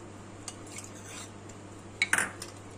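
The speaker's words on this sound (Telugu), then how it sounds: "ఇప్పుడు మనం పోపు వేయించుకున్నది కలిపేసుకోవాలి." A spoon stirs fried tempering into thinned buttermilk with soft, quiet scrapes and a few sharper metallic clinks against the vessel near the end.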